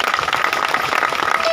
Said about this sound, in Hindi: उनका सम्मान में भी जोरदार ताली चाहूंगा